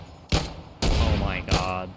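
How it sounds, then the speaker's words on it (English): Three loud, close bursts of gunfire in the colony-survival game RimWorld, each a sharp broadband crack with a ringing tail, the last two longer and overlapping into a sustained volley with rising metallic whines. "I think I'm safe to shoot"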